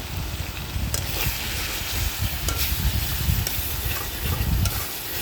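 Onion sautéing in a pan with turmeric and chili powder, for a bottle gourd and fish curry: a steady, close sizzle broken by regular scraping stirs of the spatula.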